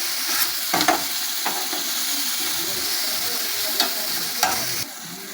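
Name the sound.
onion sautéing with ginger garlic paste in a pan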